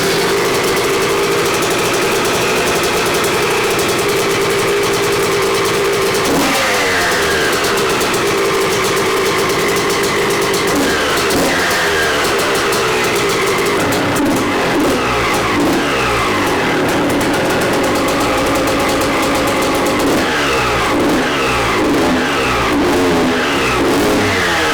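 A Honda 125 CR two-stroke dirt bike, on choke, fires and runs loud and close. The engine holds a rough idle and then revs repeatedly in rising, crackling bursts that fill the whole stretch, with no talking.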